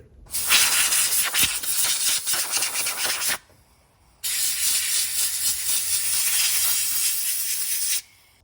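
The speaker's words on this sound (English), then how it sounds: "I'm just gonna blow it off with the air compressor and put it back in." Compressed air from an air compressor nozzle blasts the air filter of a Stihl BR 800 backpack blower clean: two loud, close hissing bursts of about three and four seconds, split by a short pause.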